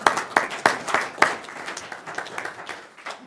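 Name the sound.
applause at council meeting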